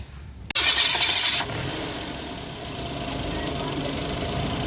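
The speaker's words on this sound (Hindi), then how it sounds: "गाड़ी को सल्फ लगाया, गाड़ी स्टार्ट भी हो गई है" A 2014 Suzuki Alto cranks on its self-starter with a sharp click and brief whirring burst, then settles into a steady, even idle close by.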